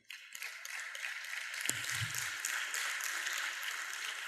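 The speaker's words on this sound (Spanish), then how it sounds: "Un aplauso al Señor." A church congregation gives applause to the Lord, a dense, even wash of many hands clapping that carries steadily to the end.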